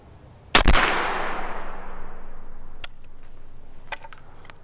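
A Shiloh Sharps cavalry carbine fires one loud, sharp shot outdoors, the blast ringing out into a long, fading echo that trails off over several seconds.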